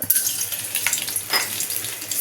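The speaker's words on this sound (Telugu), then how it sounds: "ఆయిల్ వేడెక్కింది ఇప్పుడు దీంట్లో చెక్క యాలుక లవంగాలు" Whole cinnamon, cardamom and cloves hit hot oil for an egg gongura curry, giving a close, crackling sizzle with a few sharper pops and no voices.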